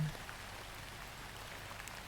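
Steady, soft rain falls as a continuous hiss of patter with scattered drops, heard faint and alone with no voices in a quiet indoor setting.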